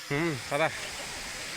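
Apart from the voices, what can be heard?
waterfall at Rampachodavaram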